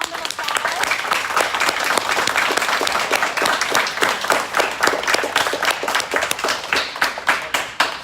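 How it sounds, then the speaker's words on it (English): A crowd applauds steadily for a graduating class of nursing assistants at Avamere Rehab, a dense, continuous clapping that holds at an even, fairly loud level from start to finish. "Everybody, give them a round of applause."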